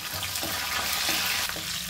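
Curry leaves hit hot tempering oil already holding garlic for a gongura pickle, giving a steady, close, loud sizzle and crackle with faint stirring throughout.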